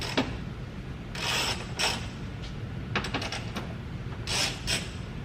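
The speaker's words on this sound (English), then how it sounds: "I'm gonna have to use the big boy ratchet on these" A large ratchet turning bolts under a Ford car, heard as several short bursts of close, quiet clicking with pauses between them over a low background.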